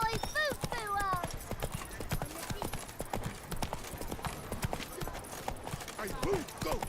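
Horse hooves clip-clop in quick, steady rhythm in a video game, loud and close, with a horse whinnying briefly and voices talking over the trotting.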